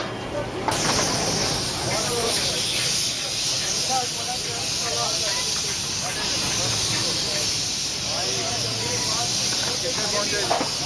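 A loud, continuous hiss of steam venting from a pressure cooker at a Pakistani street food stall making mutton karahi, with people talking underneath throughout.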